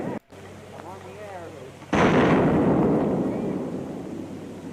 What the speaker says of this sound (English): Then you hear the rushing air, all being pushed and pulled. That's it. It sounds like a really, really loud explosion.